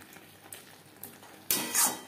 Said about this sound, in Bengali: মশলার সাথে পটল বেশ ভালো করে মিক্স করে দেব।